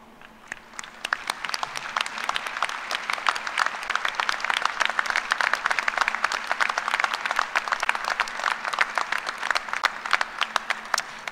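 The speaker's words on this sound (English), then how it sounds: "round of applause" A graduate school commencement audience applauds its faculty for mentoring graduate students, a steady dense wash of many hands clapping that holds for about ten seconds.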